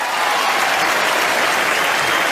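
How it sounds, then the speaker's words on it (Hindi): Loud, steady audience applause at an awards show, continuous dense clapping from a large crowd without a break. "जोरदार तालियां पाजी के लिए होनी चाहिए।"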